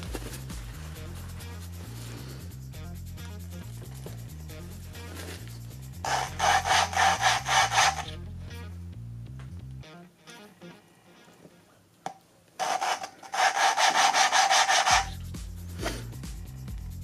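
Hand lapping of a Nissan RB26 engine valve from an R32 Skyline GT-R, turned against its seat with a suction-cup tool: close, rhythmic gritty rubbing in two loud bursts over a low steady background hum, with no talking.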